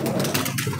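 A pigeon coos softly in a short low burble against a steady engine-like hum.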